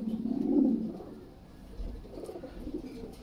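A golden dun Lahori male pigeon coos in a short low burst, followed by softer, fainter cooing, close by and with no talking.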